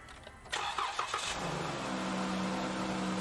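A car engine, started with a portable jump starter, cranks for about a second, then catches and settles into a steady, low idle hum that continues to the end.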